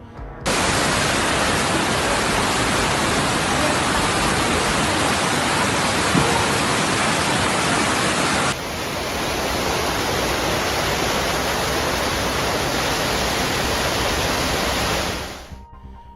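Heavy rain pelting down on flooded streets in densely packed Hong Kong, a loud, unbroken hiss of downpour that shifts slightly in tone partway through before fading out at the end.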